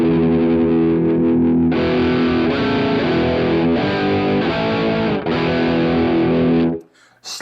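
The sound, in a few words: guitar through Boss GX10 effects processor sounding glitchy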